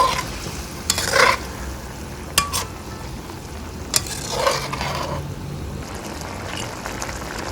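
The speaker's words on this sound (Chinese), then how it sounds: "所以慢慢这样子用这个锅铲这样子推它" Spatula gently pushing mapo tofu around a wok, a few soft scraping strokes over a steady low simmer and sizzle, close and alone.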